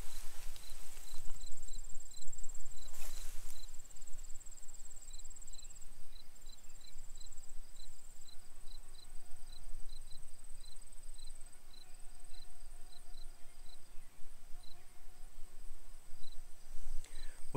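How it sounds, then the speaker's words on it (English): Crickets chirp in a native warm season grass field, a steady, high-pitched pulsing trill that runs throughout against soft outdoor background noise. "and you can hear the crickets chirping,"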